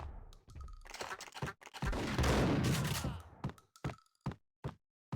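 Gunfire from the Max Payne video game, including shotgun blasts: a dense burst of overlapping shots and impacts in the middle, followed by several sharp, separate single bangs spaced out toward the end, loud and close with no talking.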